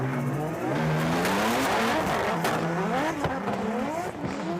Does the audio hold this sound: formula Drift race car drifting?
yes